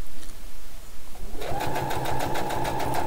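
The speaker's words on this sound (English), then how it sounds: "Then I'm going to use that little button to go back and then forward again, and then I can continue sewing." A sewing machine stitches a striped faux fur tail. After a quiet start it runs in a fast, even, close mechanical rattle that lasts to the end, with no one speaking.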